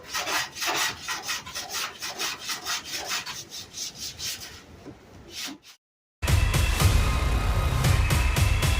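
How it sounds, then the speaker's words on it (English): Hand sanding scuffs a Ford Fox-body Mustang's body panels before paint, a steady rhythmic rasping of repeated back-and-forth strokes, close and fairly loud, stopping briefly before a dense, louder broadband scrubbing takes over. "So I'm going to get back to sanding"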